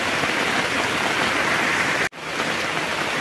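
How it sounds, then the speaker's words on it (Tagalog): Heavy rain and rushing floodwater during Typhoon Goring in Occidental Mindoro, a loud, steady broadband roar of pouring water that stays constant throughout, with one brief dropout near the end, and no talk. "Lakas pa rin ang baha."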